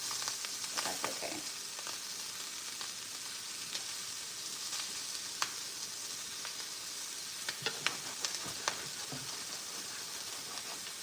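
Food sears in a hot pan under a press, a steady close sizzle and hiss lasting throughout with occasional sharp pops and crackles, no voices over it.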